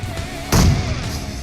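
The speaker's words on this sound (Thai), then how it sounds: "อุ้ยระเบิด" A grenade-style explosion in the mobile battle royale game PUBG Mobile: one sudden loud boom midway, decaying over about half a second over quiet game background.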